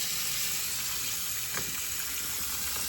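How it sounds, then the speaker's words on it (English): Cold tap water runs into a kitchen sink with a garbage disposal full of ice, a steady close hiss and splash at even loudness throughout. "I'm gonna put in some cold water."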